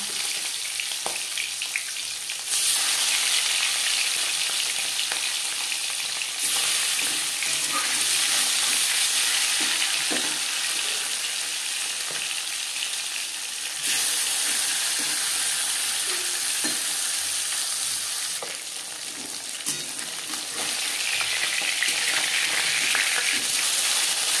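Fish frying in hot refined oil in a pan gives a loud, steady sizzle that runs through the whole stretch, swelling and easing slightly now and then, with no voices.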